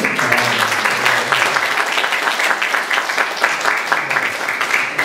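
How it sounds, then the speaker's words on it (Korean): Applause from the congregation at a Korean church New Year fasting revival meeting, a dense steady wash of many hands clapping for the full stretch at moderate loudness, with no talk over it. "우리 감사의 박수 한번 올려드릴까요?"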